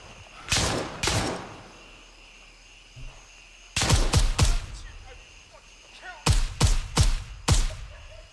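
Gunfire in the video game Gray Zone Warfare, loud close bursts of rapid shots in three clusters with pauses between them, crisp and sharp over a faint background.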